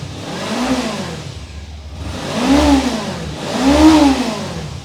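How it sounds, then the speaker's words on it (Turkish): A Suzuki V-Strom 250 motorcycle engine runs steadily, swelling and easing in three slow surges of revving, close by and loud. "Şimdi ben motoru size çalıştıracağım."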